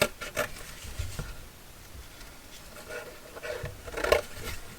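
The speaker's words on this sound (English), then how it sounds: "Cutting card with scissors is never fun." A pair of scissors cutting through card, with a few soft snipping and crunching strokes spread over several seconds, faint and close, with quiet pauses between the cuts.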